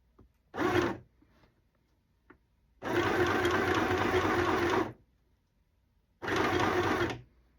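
A sewing machine stitches fabric in three separate bursts, one short, one long and one medium, with quiet pauses between them. It sounds close and clear, with no voices.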